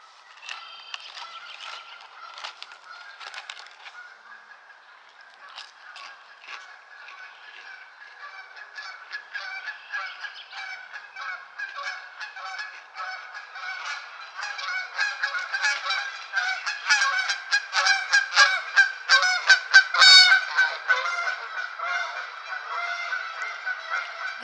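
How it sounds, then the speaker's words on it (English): A flock of geese passes overhead above a swamp, their honking calls starting sparse and faint and building into a dense, loud chorus of overlapping honks before thinning slightly. "Looks like geese."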